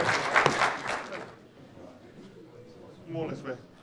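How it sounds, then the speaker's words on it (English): Applause from the audience at a mixed combat promotions press conference, a burst of clapping at the start that fades out, followed by quieter room noise and a voice speaking near the end. "there's a round of applause for Mitch May, Pacey Humphreys."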